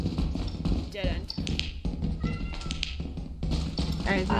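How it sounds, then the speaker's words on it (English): A cat meows in the horror co-op game Lethal Company, short mews popping up amid clattering footsteps and game noise while players chatter over it. "I hear a cat."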